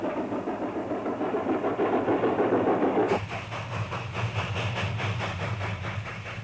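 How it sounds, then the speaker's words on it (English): A narrow gauge steam train runs over Marshall Pass, a continuous rumble with hissing and rhythmic rail clatter, steady and fairly close, shifting abruptly partway through to a brighter, more clattering tone with no voices. "You're on board the last narrow gauge train over Marshall Pass"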